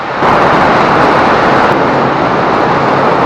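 A Kawasaki Vulcan S motorcycle engine roars loudly with heavy airbox intake noise, a steady, dense, close-up drone that holds unbroken from start to finish.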